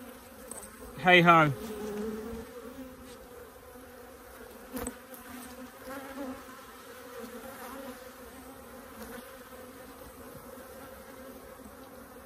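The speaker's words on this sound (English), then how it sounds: "The amount of bees hanging off these frames." Honeybees buzzing steadily over beehive frames crowded with bees, a continuous close hum throughout, with a brief voice calling out near the start.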